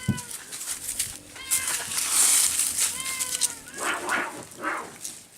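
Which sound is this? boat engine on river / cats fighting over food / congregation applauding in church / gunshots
cats fighting over food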